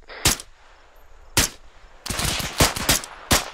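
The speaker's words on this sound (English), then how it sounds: "sprayed, like, 20 bullets down towards him" Close rifle fire in Arma 3: two single loud shots a second apart, then a rapid spray of several cracking rounds in quick succession and one last shot, with no voices.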